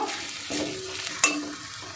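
Ground spices, including dried red chilli powder, sizzle in a pan for a pangas fish curry while being stirred, a close hiss with a few sharp scrapes and clinks of the spoon.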